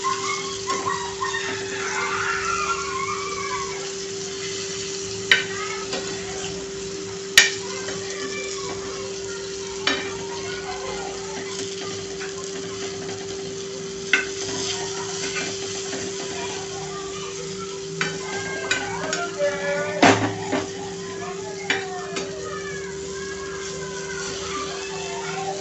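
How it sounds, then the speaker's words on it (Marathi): Dudhi vade fry in hot oil in a pan, a steady sizzle running throughout, broken by scattered clinks and scrapes as they are turned, with a faint voice now and then. "आता आपण सगळे वडे ना व्यवस्थित असे पलटून घेतलेले आहेत छानपैकी।"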